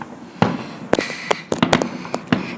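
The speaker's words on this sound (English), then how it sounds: "Enjoy the fireworks, everyone." Fourth of July fireworks exploding, a run of sharp cracks and booms at irregular intervals, some close and loud, others fainter, with sparkling crackle between them.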